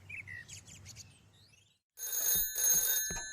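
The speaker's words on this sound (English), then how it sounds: "The next day, the phone rang in Pat's house." A telephone rings in a house in a children's animated village story, a loud repeated electronic ring in two bursts, coming after a stretch of light chirping birdsong and a moment of silence.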